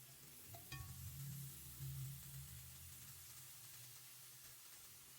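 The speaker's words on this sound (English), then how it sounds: "we are going to allow our shrimp to cook for 1 to 2 minutes on each side" Shrimp frying in a pot for a Jamaican rasta pasta, giving a steady low sizzle with a faint clink near the start, then easing to a quiet simmer.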